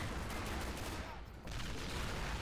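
Sustained gunfire in the Men of War: Assault Squad 2 video game, a dense continuous roar of rifle and machine gun fire in a British ambush, with a brief dip in the middle before the barrage resumes.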